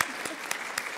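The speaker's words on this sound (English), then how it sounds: "We like to clap in art museum education" Audience at an art museum education preconference keynote clapping in a steady, even wash of applause, with a few slightly louder bursts through the second.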